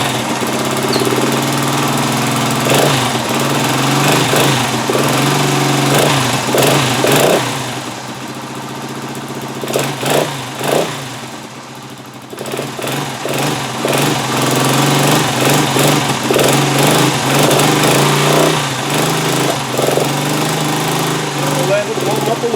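A restored Honda TL 125 motorcycle engine idles cold with the choke on, a steady close chugging putter that dips briefly midway, with a voice speaking over it.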